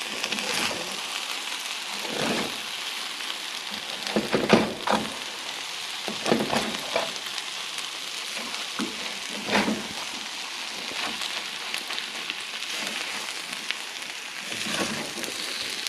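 Eggs frying with rice in a frying pan, a soft continuous sizzle with scattered crackles and occasional scraping stirs, fairly quiet and steady.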